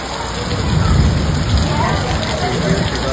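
Heavy rain pours without a break during a storm with hail and thunder. The loud, dense hiss is close by, with a deep low rumble underneath.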